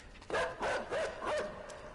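A dog in a video game barks and yips in four quick, loud bursts with a whining edge, close up and alone with no talk.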